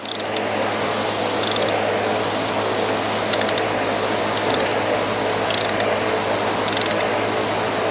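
A torque wrench ratchets while tightening the oil drain bolt on a motorcycle, giving short bursts of rapid clicking that repeat about six times over a steady background hum.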